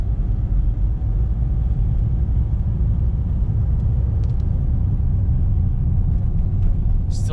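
A Jeep XJ with an AW4 automatic transmission cruising at highway speed, a steady loud cabin rumble of engine and road noise that stays constant throughout.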